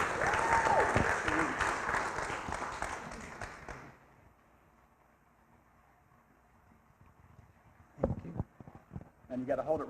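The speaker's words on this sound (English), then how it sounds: "You got to clap for Ray." An audience claps at a testimonial event, a dense burst of applause that fades out after a few seconds, followed by a near-silent pause and then close handling noises and a voice speaking.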